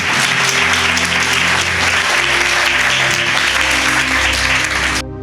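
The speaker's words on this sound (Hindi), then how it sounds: "एक जोरदार ताली बजाओ शमगर के परमेश्वर के लिए" A church congregation applauds loudly, a thick wall of clapping with sustained keyboard chords underneath, which cuts off abruptly after about five seconds.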